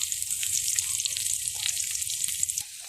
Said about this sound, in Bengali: পরিমাণ মতো তেল দিয়ে আমি মরিচ পেঁয়াজটাকে সুন্দর করে ভেজে নেব।